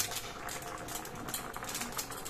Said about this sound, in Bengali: আমাদের এখানে তরকারিটা খুব সুন্দর টকবক করে ফোটা শুরু করে দিয়েছে।